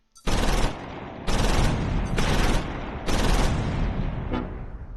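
Mortar fire in the World War II strategy game Close Combat V: a run of heavy, roaring blasts in quick succession, each sustained and booming, with a fainter final hit trailing off at the end.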